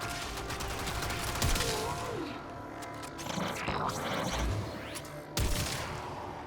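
Rapid automatic gunfire in the video game Warframe, dense bursts of shots with booms and mechanical effects layered over continuous action noise.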